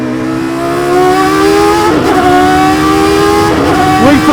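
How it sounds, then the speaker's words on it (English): Ascari V10 Le Mans prototype engine howling loud and close at high revs, with two sharp rising throttle blips on downshifts about two seconds apart, no talk over it. "Dialing in the downshift blip now."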